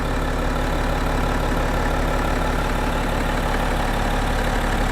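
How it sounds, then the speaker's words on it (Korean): The diesel engine of a BMW X6 xDrive 30d idles steadily up close, a constant low rumble with an even, unchanging tone and no voices. "엔진 소리 역시도 매우 일정하고 아주 좋습니다."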